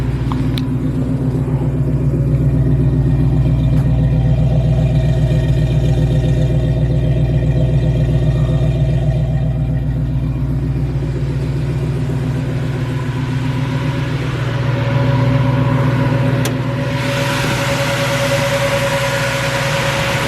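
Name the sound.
1968 Mustang 302 V8 engine idling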